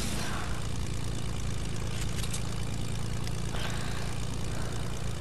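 Airplane engine in Fortnite during a scrim match, a loud, steady propeller drone that runs unbroken from start to finish with no voices.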